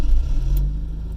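A 1980 Porsche 924 Turbo engine rumbles low and steady at close range as the car pulls away, a continuous deep drone with no voices.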